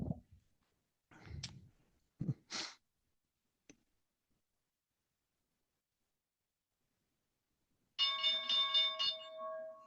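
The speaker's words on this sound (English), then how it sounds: "And there is the bell" Stock market closing bell on a day-trading stream, a sustained multi-tone ringing that starts near the end after a few scattered bumps and clicks, fairly loud and alone with no talk over it.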